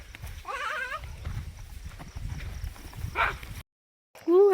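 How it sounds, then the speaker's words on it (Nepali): A wavering goat bleat rings out close by, then a quiet rustle, a brief silence, and another bleat starting at the end. "बाख्रा आयो बाख्रा"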